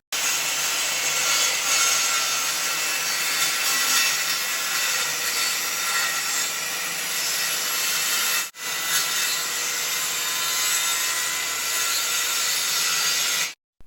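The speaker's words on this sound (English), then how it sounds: "Just strip off, the side to get a finer quality cut with the circular saw." A circular saw rips steadily through a plywood hardwood piece, a loud continuous sawing whine that stops abruptly for a moment, resumes, then cuts off at the end; no talking.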